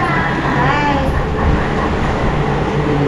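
Toy train in a train-themed restaurant in Airoli, a steady loud rumbling run with a faint squeal near the start, over a constant background din.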